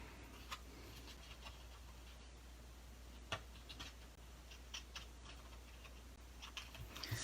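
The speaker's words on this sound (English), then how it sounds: "I just take my paper snips and cut that little bit of excess off." Paper snips trim a small excess strip of cardstock in a series of faint, sparse clicks and snips spread across a quiet room with a low hum.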